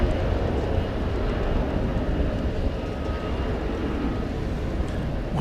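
A jet airliner touches down and rolls along the runway at DFW airport at night, a loud, continuous low roar and rumble of engines and wheels that holds steady throughout.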